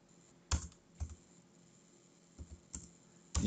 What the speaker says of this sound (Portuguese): vem aqui e digita, Thiago.